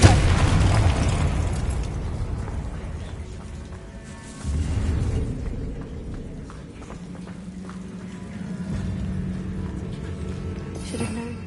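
Confringo blasting spell in the video game Hogwarts Legacy: a loud booming burst at the start and another thump near the middle, with rumbling game effects and a low sustained tone between them.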